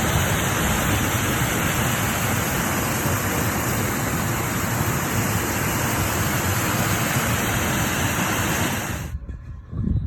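A waterfall at a campsite in Skhidnytsia pours in a loud, steady broadband rush with no voices, holding constant for about nine seconds before cutting off abruptly near the end.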